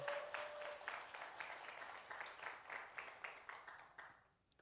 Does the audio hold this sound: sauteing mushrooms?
no